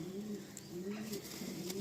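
A rare pigeon coos softly in a loft, repeated low rolling calls close by and faint, with slight background noise.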